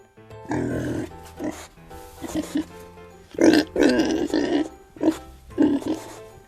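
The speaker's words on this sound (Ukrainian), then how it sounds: "це свиня." A pig grunts and snorts in several loud, throaty bursts with short pauses between them, over a faint steady musical tone.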